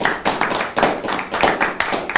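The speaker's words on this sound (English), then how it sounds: "Ladies and gentlemen, give them a round of applause." Applause for guests introduced at a speaking showdown event: scattered, uneven claps from a small audience come in bursts and swells, close and fairly loud, with no talk over them.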